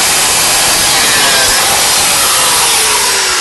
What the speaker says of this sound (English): I can get in with the angle grinder and I can cut the other bolt off.